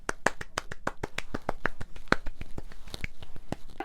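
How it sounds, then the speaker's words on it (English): A single pair of hands claps at a quick, even pace, about twenty sharp, close claps in a row with no voices. "Let's give her a round of applause for that."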